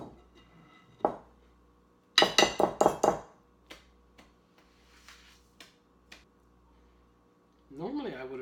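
A whisk clatters against a bowl while mixing yeast roll dough, with a quick burst of several loud metallic clinks followed by scattered lighter taps, close by, and a voice speaks briefly at the end.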